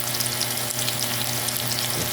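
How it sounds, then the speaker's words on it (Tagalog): Steady crackling sizzle of tofu frying in hot oil, continuous and close, with no voices. "Lulutuin muna natin yung tokwa. I-prito natin ng konti."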